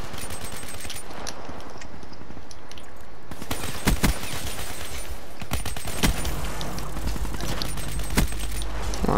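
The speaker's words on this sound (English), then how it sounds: "Yeah, put a whole clip into them." Bursts of automatic gunfire from a first-person shooter video game with a KBK rifle, several loud sharp volleys and single shots over steady game background noise.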